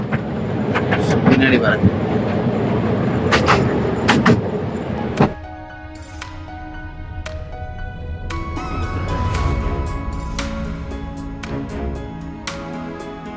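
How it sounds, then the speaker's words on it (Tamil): An amusement park toy train ride at Wonder's Park in Nerul, Navi Mumbai, rolling along with a rumbling clatter and sharp clanks, a quieter stretch midway, while people talk nearby. "நம்ம இப்போ டாய் ட்ரெயினில் போயிட்டுருக்கோம்"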